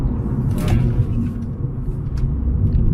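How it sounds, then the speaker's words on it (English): Mercedes car on a road test, heard from inside as a steady loud low rumble of engine and road noise with faint rattles and no talk. "I'm just road testing the Merc just to see how it performs"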